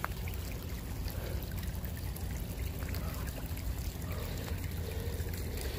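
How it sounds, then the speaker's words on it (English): Water trickles steadily into a garden pool at a botanical garden, a soft continuous pouring and dribbling wash with a low rumble underneath, moderately near and with no talk. "I'm guessing the water is coming up here through that pool."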